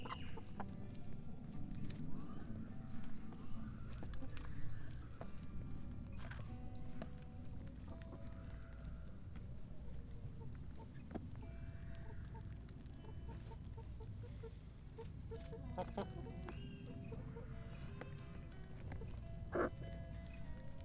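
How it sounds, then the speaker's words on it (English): Chickens cluck softly while pecking at a feed of cottage cheese, with scattered, faint calls over a steady low background hum. "I see a chicken that I fed some cottage cheese."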